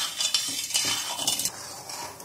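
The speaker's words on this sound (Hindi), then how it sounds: "इसको थोड़ी देर के लिए हिलाना पड़ेगा, जब तक शक्कर नहीं गलेगी तब तक हिलाएंगे" A spoon stirs sugar syrup in a pot while the sugar dissolves for boondi, giving close, irregular scraping and light clinks against the metal over a soft bubbling background.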